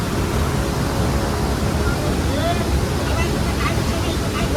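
A waterfall with a heavy flow after rain, roaring steadily and loudly up close, with faint voices and babble mixed into the constant rush.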